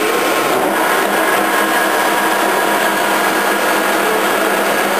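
A Lucas table-type horizontal boring mill runs its spindle at 320 RPM, giving a steady, loud machine whir with a broad mechanical hiss. The sound holds constant for the whole stretch, with no talk.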